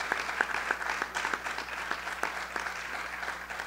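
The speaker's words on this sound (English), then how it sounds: "a round of applause for all of the nominees and all of the winners thus far" Audience applause for student production award nominees and winners at the 2019 Suncoast ceremony, a steady clapping wash with a few sharper individual claps, moderately faint and continuous.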